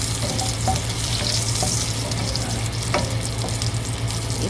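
Homemade chicken balls fry in oil with a dense, steady sizzle and crackle close up, dotted with small pops and light clinks, and no voices.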